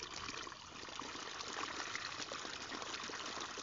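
Water gushing and splashing steadily from an NS 80 pump driven by an 8 hp Dongfeng diesel engine, irrigating a sugarcane field; a dense, continuous rushing close by, with no speech.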